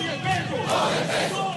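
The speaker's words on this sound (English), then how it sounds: "Maduro was greeted by troops singing and clapping as he joined them for a ceremony" Venezuelan troops singing and clapping together to greet President Nicolas Maduro at a military ceremony, a loud, dense mass of voices with sustained chanting from a large group.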